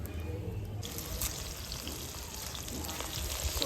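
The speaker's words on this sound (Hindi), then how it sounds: "इसके अंदर पानी डालती मैं।" Water poured into a cooking pot in a home kitchen, a steady close splashing and trickling wash that runs continuously, fairly soft, with no talk over it.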